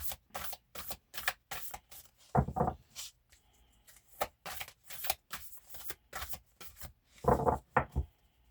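A deck of cards is shuffled close by, with crisp riffling bursts repeating in a steady rhythm and a couple of heavier thumps as the deck is squared, no voices over it.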